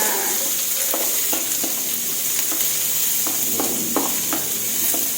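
Carrots and onions fry in a hot wok for a Thai stir-fried pork noodle dish, with a continuous bright sizzle and repeated clanking scrapes of a spatula, close and loud, with no voices.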